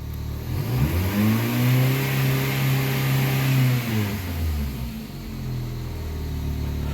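A 2006 Mini Cooper engine, just started after a bank 1 sensor 2 replacement, revs up close and loud, holds a steady higher pitch for a few seconds, then drops back to a lower idle hum.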